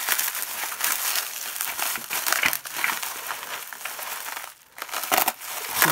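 Tape crackles and crinkles as it is peeled from parcel packaging, close and fairly loud, with bursts of ripping texture that pause briefly near the end before resuming.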